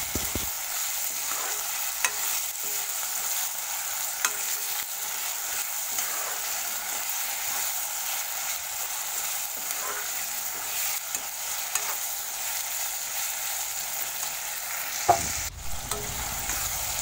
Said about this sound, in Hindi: अब इसे मैं अच्छे से सॉफ्ट होने तक पकने के लिए देती हूँ टमाटर को